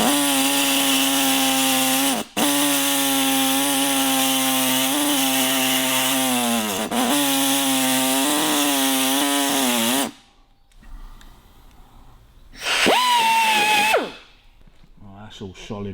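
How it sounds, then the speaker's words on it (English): A saw cuts through the brazed fork brace of a 1957 Douglas Dragonfly motorcycle, loud and steady for about ten seconds with a brief pause, then a shorter second burst after a quieter gap. "See if I can get a little bit of a saw cut down that other side."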